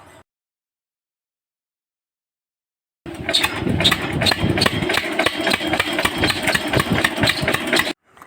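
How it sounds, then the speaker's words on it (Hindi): A small engine starts after about three seconds of silence and keeps running with a rapid, hard knocking idle, loud and close, then cuts off abruptly near the end. "मैंने फ़र्स्ट टाइम में ही इंजन को स्टार्ट कर दिया"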